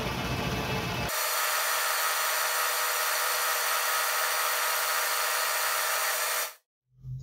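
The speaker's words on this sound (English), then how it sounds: "I'm going to give it a quick skim pass just to make up for any deflection" A milling machine makes a light skim pass on a vise, a steady close whirring cutting drone that runs for several seconds after a brief start and then stops abruptly, followed by a short bit of quieter sound.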